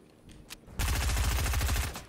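A rapid burst of automatic gunfire rattles for over a second after a couple of faint, isolated shots, sounding like game weapon fire.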